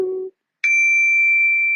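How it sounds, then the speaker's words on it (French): A crystal singing bowl bought in Japan is struck once after a brief low tone, ringing out with a clear, pure sustained pitch that hangs steady and close for over a second. "ma petite boule de cristal, hein, que j'ai achetée au Japon pour vous"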